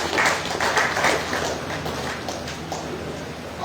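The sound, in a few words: applause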